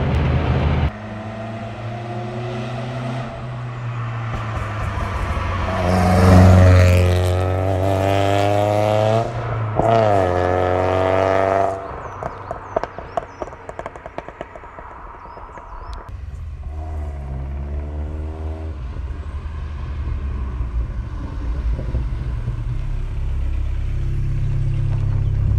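A loud, heavily modified 1985 VW Golf GTI Mk2 hot hatch drives with its engine droning and revving up and down in repeated sweeps, then settles into a steadier rumble, heard from close inside the car.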